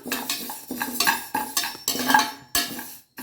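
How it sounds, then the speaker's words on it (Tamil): Moong dal dry-roasting in a pressure cooker on the stove, repeated rhythmic scraping and rattling strokes of a spoon against metal, close and fairly loud, with brief pauses. "அதில் வந்து இந்த சிறுபருப்பை போட்டு லைட்டாக சூடாகிற வரைக்கும் வறுத்துக்கலாம்"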